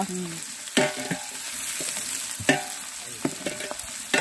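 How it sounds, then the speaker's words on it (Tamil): Onions frying in oil until golden for vegetable biryani, a steady close sizzle broken by several sharp stirring scrapes and knocks of a spoon against the pan, with no one speaking. "வெங்காயத்தை நல்லா பொன்னிறமாக வதங்கூடா."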